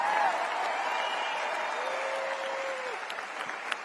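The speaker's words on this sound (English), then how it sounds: "Give this young woman, a round of applause" Audience applause at a political convention, a full crowd clapping steadily and loudly from the start, tapering slightly toward the end, with a few faint cheers mixed in.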